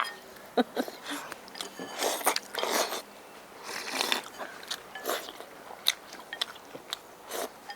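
People eating beef stew with noodle slices at home, with wet crunching chews and slurping bites close by in an irregular rhythm, separated by short pauses.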